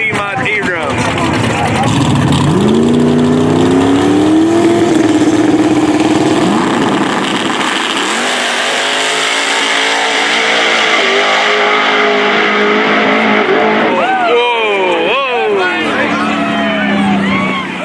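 Big Tire class no-prep drag racing cars roar through a final at a concrete strip, engines revving loud and rising in pitch, then winding down and blipping again, with crowd voices mixed underneath.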